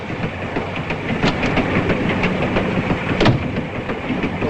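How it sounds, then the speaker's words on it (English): Passenger train rolling along European rails, a steady rumbling clickety-clack with periodic wheel clicks over track joints, close and continuous throughout with no voices. "Nothing unusual for a European train."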